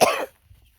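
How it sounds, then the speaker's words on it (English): A single harsh cough bursts out close by and fades within a third of a second, followed by near silence. "I am coughing because usually 7 to 7 is when I've been taking a cough suppressant."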